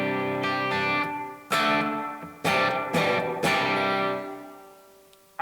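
Electric guitar played through a reverb pedal with the decay turned up: four strummed chords, each struck loudly and left to ring out in a long, washy tail that slowly fades before the next strike.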